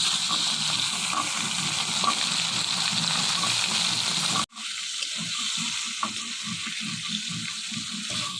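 Taki fish, with dried chillies, frying in hot oil in a home kitchen sizzle in a loud, continuous hiss. After a brief break midway, the crackle resumes with faint stirring and no talk.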